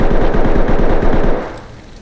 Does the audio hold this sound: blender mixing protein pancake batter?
no